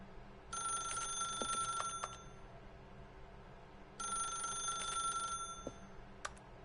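A telephone rings in The Stanley Parable video game, two bright trilling bursts of bell-like rings separated by a pause, heard clearly over a low, steady background hum.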